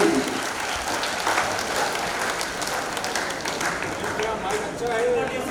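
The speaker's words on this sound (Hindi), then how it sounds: "एक बार जरा दोनों हाथ हवा में उठा दो, जोरदार तालियां" At a Hindi poetry event in the Mewar region, a crowd breaks into loud, sustained applause, with dense clapping filling the whole stretch.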